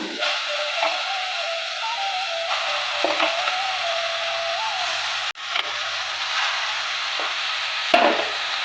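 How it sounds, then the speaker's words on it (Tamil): Chicken sautés in a pan with a steady, broadband sizzle throughout, broken by occasional clicks and scrapes of stirring, with no talking over it. "சிக்கன் நல்லா வதங்கட்டும்."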